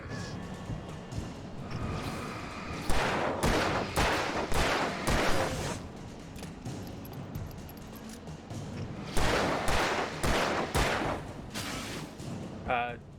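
Repeated heavy shots from a sling gun in Alan Wake Remastered, thudding blasts in two clustered bursts, with a voice talking quietly in between.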